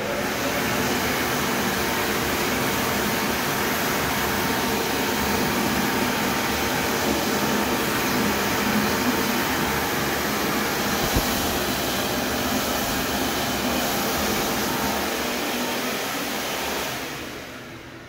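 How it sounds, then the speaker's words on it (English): A loud, steady rush of blowing air from a hand dryer runs continuously up close, then tapers off near the end. "I really like this hand dryer."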